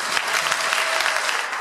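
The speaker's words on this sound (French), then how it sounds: "Tu dois applaudir." Congregation applause at an evangelism gathering in a church, a steady, dense burst of clapping that runs through the short stretch without a break.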